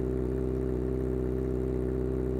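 Steady drone of a Kawasaki ZX-25R motorcycle with an aftermarket exhaust, held at a constant idle-like rumble with layered harmonic tones, recorded close by a separate microphone and loud throughout with no talking.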